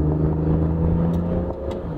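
A BMW F30 340i xDrive engine accelerates steadily and close, with a continuous mid-pitched drone and a smooth, even rise in pitch, heard alone without any talking.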